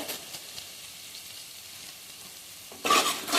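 Kashmiri red chillies frying in a pan for a fish chaap, a quiet sizzle with faint stirring, then a sudden loud surge of hiss and crackle near the end.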